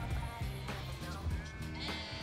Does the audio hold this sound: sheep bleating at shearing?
yes